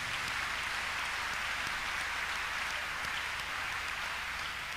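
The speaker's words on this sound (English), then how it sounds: "Clap your hands unto God of the choosing" A congregation at a Thursday counselling and deliverance church service claps hands continuously in a dense, even roar that holds steady without pause.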